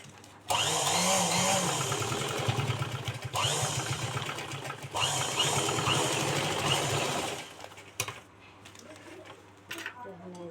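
Sewing machine stitching a handbag made from a plastic sack, running in several sustained bursts of a steady motor whir with pauses between, near and fairly loud, with brief quieter handling sounds at the end.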